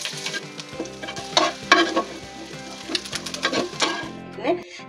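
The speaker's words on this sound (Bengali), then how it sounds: "এটা আগে ভেজে উঠাবো।" Dried red chillies, garlic and onion fry in mustard oil, a crackling sizzle punctuated by rapid scraping and clacking of a spatula against the pan, close and fairly loud.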